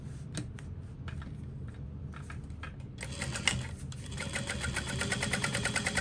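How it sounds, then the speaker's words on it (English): Sewing machine top stitching along the edge of a shoulder bag: a steady mechanical running hum with rapid needle ticking that grows denser and louder in the second half, close up and with no talk. "Now we can top stitch through that edge."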